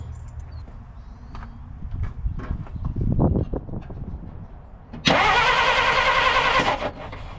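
A 1950 Dodge Meadowbrook's engine cranks over loudly and steadily for about two seconds, preceded by scattered clicks and handling noises close by.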